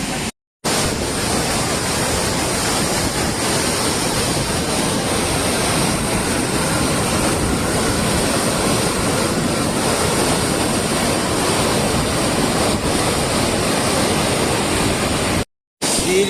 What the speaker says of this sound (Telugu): చూసారా వాటర్ ఎలా ఫ్లో అవుతుంది ఇక్కడ.